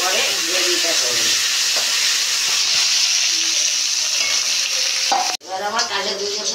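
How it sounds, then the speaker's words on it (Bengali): Pomfret fish fry in hot oil in a Bengali-style pan, a loud steady sizzle and hiss with occasional stirring scrapes, briefly cut off before resuming. "এইভাবে আমি সব মাছগুলো একে একে ভেজে নেব"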